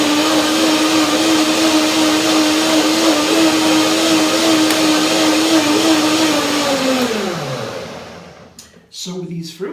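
A blender whirs at a loud, steady pitch while mixing a runny dressing, then winds down near the end as the motor slows, followed by brief clatter and a voice.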